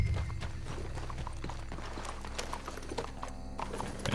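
Rapid, rhythmic clip-clop of galloping horse hooves in Red Dead Redemption 2, loud and close, with busy background sound effects layered underneath.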